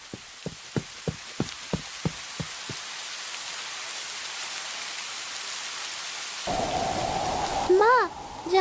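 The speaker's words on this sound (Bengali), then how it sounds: "যেমন বৃষ্টি হচ্ছে তেমন ঝড়" Steady heavy rain hisses through the whole stretch during a storm, with a run of sharp rhythmic knocks early on and a louder tonal rumble and sweeping whine near the end.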